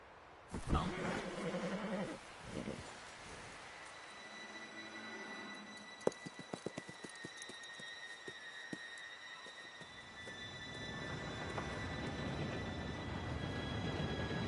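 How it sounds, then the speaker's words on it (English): Red Dead Redemption 2 train draws near: a low rumble and hiss swell in the distance, with a rapid run of clacking hits in the middle, then a broad roar building at the end. "Train should be here any minute."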